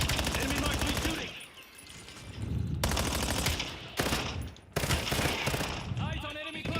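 Enemy gunfire in a video game, with rapid automatic bursts rattling in several loud stretches broken by brief pauses, while voices talk over parts of it.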